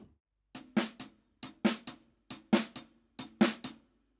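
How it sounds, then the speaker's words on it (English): A drum kit plays a steady groove of eighth notes on the hi-hat with the snare struck on every E. Crisp, close, evenly spaced hits form repeating clusters with no talking. "So if I play 8s up on the hi-hat, and every E on the snare drum"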